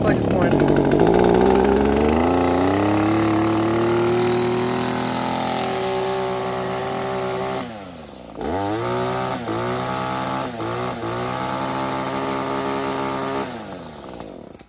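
Small two-stroke engine of a previously flooded string trimmer running loudly, revving high then dropping and sputtering through several uneven throttle changes before cutting off near the end.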